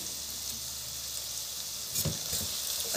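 A tomato-onion masala with garlic-ginger paste sizzles steadily in a pan as it fries, with a soft scrape of stirring midway through.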